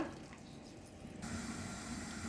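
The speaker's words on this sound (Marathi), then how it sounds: "त्यामुळे हा जवळा तुम्ही पण नक्की धुवूनच वापरा" Dried baby shrimps, for an Agri Koli style chutney, being rinsed in water, with a faint, steady stream of running tap water that grows a little louder partway through.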